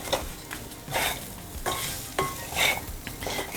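Semolina with vegetables roasting in a steel kadhai, stirred with a spoon in repeated scraping strokes over a soft dry sizzle, close and steady, with no voices.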